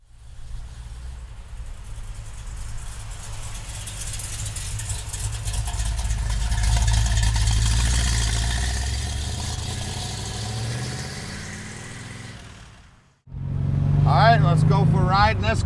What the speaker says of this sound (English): Riding this Corvette, big block power, four speed.